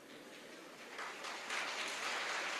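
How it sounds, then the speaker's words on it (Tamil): Audience applause at a Tamil motivational speech, a soft, distant wash of clapping that builds slightly in the second half, with no talk over it. "இந்த கைத்தட்டல் எனக்கானதல்ல."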